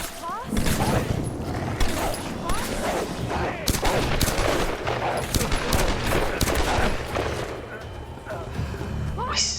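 Gunfire in the Tomb Raider reboot game: a dense, continuous fusillade of rapid shots and bursts running throughout, loud and close, with scattered mechanical clatter and no pause.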